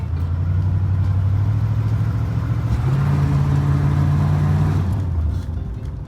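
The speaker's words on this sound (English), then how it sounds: "I'm gonna let Pap feel the old power of the Buick here." An old Buick being readied for a barn-find revival race holds a deep, steady engine rumble, with the revs rising slightly midway and then easing off. The engine sounds close and loud throughout.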